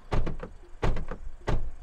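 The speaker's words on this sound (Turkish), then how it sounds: "Bu şekilde kapı seslerimiz." Three solid car door thuds in sequence from a Chery Tiggo 7 Pro, each a sharp low-heavy impact with a short rattle, evenly spaced and close by.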